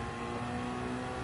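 Race car engine in Gran Turismo 7, held high near the rev limit during a race, giving a brief, steady buzzing drone with strong harmonic tones.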